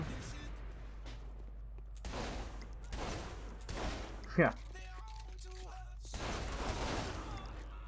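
Bursts of explosive-round gunfire in Saints Row: The Third Remastered, with booming impacts spread across the clip under a dense, noisy game soundscape; one sharp, louder blast stands out midway.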